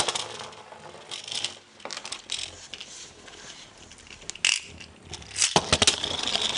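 Beyblade spinning tops Geist Fafnir and Bloody Longinus clashing in a plastic stadium, a run of sharp metallic clinks, scrapes and rattles with louder impacts near the end, close and with no talk.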